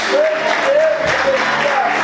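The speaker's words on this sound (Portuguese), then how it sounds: "Vamos aplaudir o Senhor Jesus." A church congregation applauds during a Sunday morning service, a steady wash of clapping with voices and a few whoops mixed in, continuous and fairly loud for two seconds.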